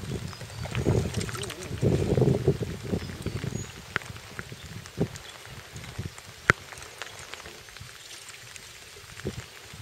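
Water sloshing and splashing around a small boat on a lake during rain, with wind buffeting and scattered knocks; busier early on, then calmer lapping with occasional taps.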